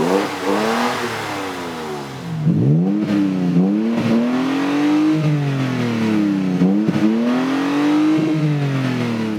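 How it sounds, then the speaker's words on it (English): Toyota Tacoma 3.5L V6 fitted with an AFE Mach-Force XP 3-inch single side-exit exhaust with black tips, revving loudly and repeatedly in rising and falling sweeps, deep and aggressive, close by with no talking. "the AFE Mach-Force XP 3-inch single exhaust system with black tips and a side exit"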